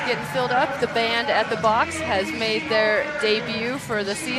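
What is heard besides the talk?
None of the usual background noises is heard.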